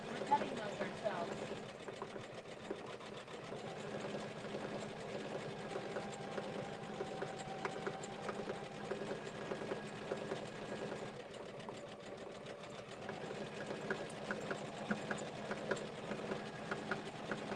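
A Janome embroidery machine stitches a design in an 8x14 hoop, a steady fast mechanical whir and patter running continuously, with people talking faintly over it.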